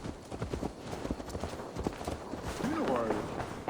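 Horse hooves clip-clopping in Assassin's Creed Valhalla, a light irregular trot under game music and ambience, ending with a short whinny-like tone.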